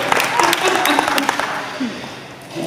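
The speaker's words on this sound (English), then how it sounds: "Let's give them a big round of applause for that" Audience applause at a club meeting, a steady wash of many hands clapping in a room, with voices and chatter mixed in throughout.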